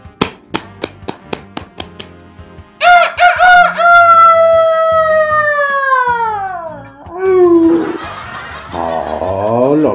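A voice imitates a rooster crowing, with clicking sounds first, then a long, loud, drawn-out cock-a-doodle-doo that falls in pitch, followed by more rough mimicked calls close to the mic.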